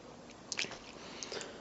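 Biting and chewing on crunchy homemade frosting, with a few close, soft crunches and squishy mouth sounds in quick bursts, quiet overall.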